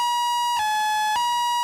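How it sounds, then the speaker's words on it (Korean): Mountain rescue team vehicle siren sounding during an emergency call-out, a steady electronic tone with harmonics that shifts pitch twice in quick steps, loud and continuous, no voices. "출동 명령이 떨어지자 사이렌 소리를 울리며 긴급하게 출동하는 산악구조대원들."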